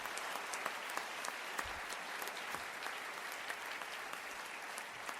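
Steady audience applause at a talk on inclusive excellence, many hands clapping evenly throughout, moderately distant and fairly quiet.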